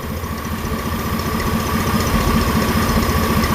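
A car engine with a stuck, poorly closing EGR valve idles roughly and begins to die out, a steady low rumble with uneven pulsing that swells slightly louder toward the end, close and alone without voices.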